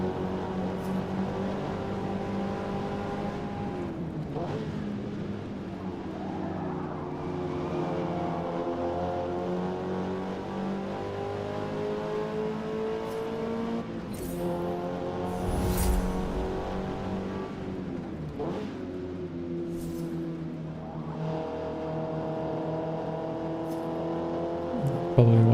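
Mazda Miata spec race car engine in Forza Motorsport, loud sustained harmonic drone rising and falling through gear changes across the whole stretch, with no talk.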